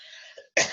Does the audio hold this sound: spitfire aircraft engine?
no